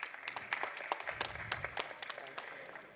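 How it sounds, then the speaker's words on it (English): Moderate applause at a youth entrepreneurship event in a women's college auditorium greets a jury member, a sparse patter of separate claps from a modest crowd heard from a distance, rising and thinning across the moment. "Can we have a good round of applause?"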